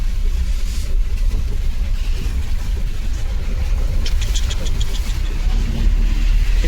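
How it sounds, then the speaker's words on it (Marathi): A big dumper truck engine rumbles steadily, with a heavy low drone holding level throughout and some faint higher rattles near the end. "इसको बोलते बडा डंपर"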